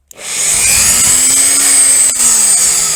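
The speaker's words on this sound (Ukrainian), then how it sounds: "Коли потрібно свердлити на цьому станку, я його я на нього я надавлюю на цю клавішу." A Temu electric drill clamped in a drill press stand spins up from silence and runs steadily at low speed, a continuous whirring motor tone with a faint sliding pitch and high-frequency whine, close and alone.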